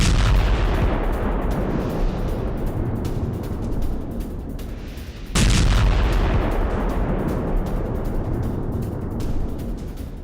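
Heavy gunfire from a Ukrainian mechanized brigade near Avdiivka, heard as a dense, continuous roar of blasts and crackling shots, loud and sustained, with a sharp fresh burst about halfway through.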